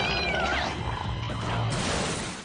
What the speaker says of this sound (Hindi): चाट वाली बिल्ली आ गई।